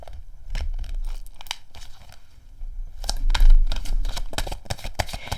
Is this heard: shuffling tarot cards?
yes